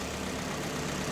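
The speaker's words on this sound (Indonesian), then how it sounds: "Dan ini suara mesinnya." A 2011 Toyota Yaris with a 1500cc four-cylinder VVT-i engine idles steadily, a smooth, even low hum at constant level with no roughness, heard alone without voices.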